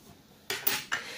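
A metal teaspoon scrapes and taps against a container while scooping a small amount of orchid fertilizer powder, making three quick, close scraping clinks in a quiet room.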